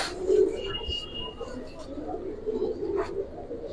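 Young fancy pigeons coo softly in a low, repeated murmur, close and faint, with a few brief higher squeaks.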